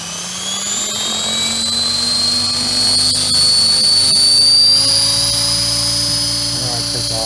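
A radio-controlled model helicopter throttles up close by, its whining rotor and motor tones rising steadily in pitch and holding loud throughout.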